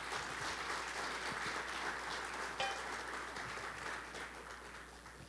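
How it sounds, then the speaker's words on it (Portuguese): Steady, dense applause from a church congregation, continuous and fairly loud throughout, easing slightly toward the end with no talk over it. "Uma salva de palmas para o Senhor."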